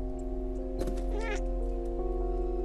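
A cat meows in the PS4 game Stray, a short wavering cry in a dark rooftop area, heard over a steady hum of game music and ambience.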